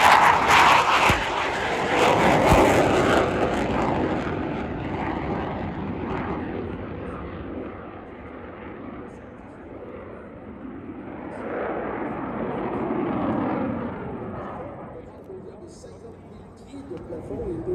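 A jet with F404 engines passes at an airshow, a loud broad roar that swells, fades, then builds again in a second rumbling surge, with announcer talk over it.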